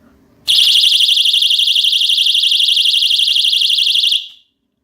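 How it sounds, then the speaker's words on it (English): An anti-attack personal alarm shrieks after its pin is pulled, a very loud piercing warbling siren held for about four seconds, close up, then cut off abruptly. "to activate the alarm, you need to pull on this pin, and be warned, it is very, very loud"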